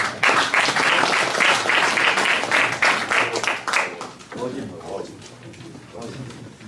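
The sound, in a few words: audience applause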